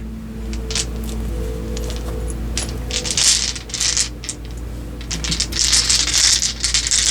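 Dice roll and rattle across a surface in several quick clattering bursts, close and crisp, over a steady low hum with no talking.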